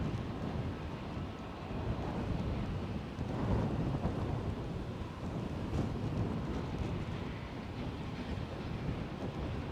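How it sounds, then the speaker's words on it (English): Strong wind gusts at Edinburgh airport roar steadily against the microphone, a loud, continuous low rumbling buffet with no voices. "Feels like the wind machine has switched back on again."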